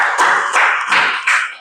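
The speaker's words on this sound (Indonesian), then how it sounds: "tepuk tangan untuk kelompok 1" Group of students clapping for the first team in a classroom quiz, several short bursts of applause in quick succession, near and fairly loud.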